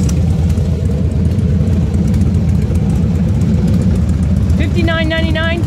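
A 2002 Harley-Davidson Fat Boy and a 2006 Sportster 1200 Custom idle nearby with a steady, loud, low rumble throughout, joined near the end by a brief higher tonal whine.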